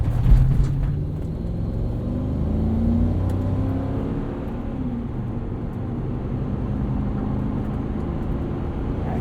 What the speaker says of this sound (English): you can use it to downshift here by pressing the minus button to the left